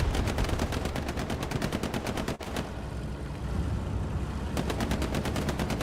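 Rapid automatic gunfire from the video game Hell Let Loose rattles in dense, loud bursts, pausing briefly in the middle before the sustained volley resumes.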